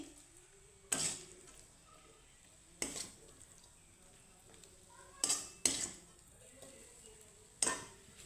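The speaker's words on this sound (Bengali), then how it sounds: "তো ভাজাটা আমি কি তুলে নিচ্ছি" Fried potato peels are lifted out of a pan with a utensil, giving about five sharp metallic clinks and scrapes spaced a second or two apart over a faint quiet kitchen background.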